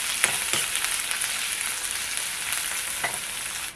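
Chopped onion, ginger and garlic fry in oil in a kadai, giving a loud, continuous hiss and sizzle with a few sharp spatters and stirring clicks throughout; no talking.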